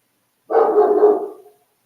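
A single dog barks once, a loud, close, drawn-out bark lasting about a second and standing alone in silence.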